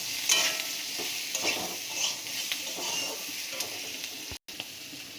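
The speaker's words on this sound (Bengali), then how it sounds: "দিয়ে একটু নাড়াচাড়া করে নেবো ভালো করে।" Green chillies are stirred into a singhi fish curry in a pan, giving a steady soft sizzle with scraping stirring strokes throughout, close and moderately quiet, broken by one brief silent gap.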